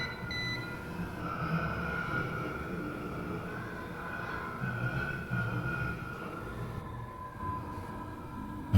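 Steady rumbling drone of a subway train running in the video game Dead Letter Dept, with a continuous low rattle and a faint tonal hum throughout, heard alone with no talking.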